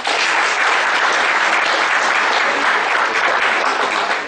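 Steady, dense applause from an audience at an ICAI Bangalore branch seminar, loud and sustained throughout with no gaps or talking over it.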